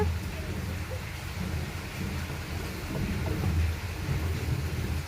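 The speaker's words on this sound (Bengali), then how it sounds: "বাইরে প্রচুর বৃষ্টি হচ্ছে" Heavy rain pours outside a home kitchen where a vegetarian meal is being cooked, a steady dense wash of noise with a low rumbling undertone that holds throughout, and no one speaks.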